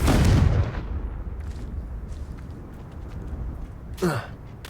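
In Hogwarts Legacy, a Confringo spell goes off in a heavy booming blast at the start, followed by quieter game ambience and a second sharp burst near the end.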